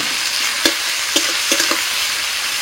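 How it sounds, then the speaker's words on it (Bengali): Chopped onion and a little salt go into hot oil tempered with whole cardamom, cinnamon and cloves, giving a steady close sizzle broken by a few sharp clicks of stirring. "ফোড়ন হয়ে গেছে, দিচ্ছি পেঁয়াজ কুচি, একটু লবণ দিচ্ছি"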